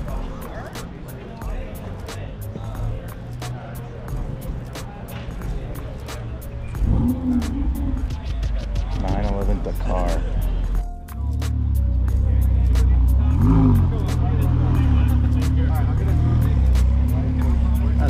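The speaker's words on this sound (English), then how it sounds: "I just said Porsche. I meant Ferrari. This is a V12." A Ferrari V12 revs at a cars and coffee meet, its engine roar swelling and holding loud beneath crowd chatter and nearby talking.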